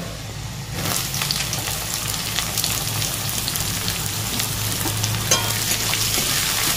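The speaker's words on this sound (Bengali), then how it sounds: "রসুনটা লাল লাল হয়ে এসছে, এবার আমি দিয়ে দেবো কুচনো পেঁয়াজগুলো।" Chopped onions hit hot oil with browned garlic, and a steady, close sizzle fills the pan from about one second in, continuing evenly with small crackles and no talking.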